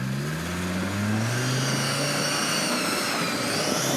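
A Land Rover Defender TD5 strains at a 4x4 club hill climb, its engine droning loud and steady with a rising pitch as it spins to a halt, no talk over it.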